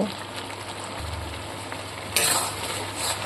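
Masala sautés in a pan with a continuous hissing sizzle and a few scrapes and clinks of the spoon. The sound swells louder partway through as it is stirred, heard up close without talk.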